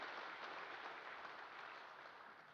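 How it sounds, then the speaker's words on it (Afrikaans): A church congregation applauds at a Sunday service, a steady dense wash of clapping at moderate distance that holds level throughout, with no voices heard above it. "Ons klap maar altyd hande vir die ouens wat 94 word."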